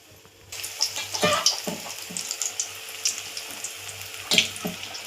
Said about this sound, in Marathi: पान बेसन मध्ये घालूया, म्हणजे असं बुडवून तळून घेऊ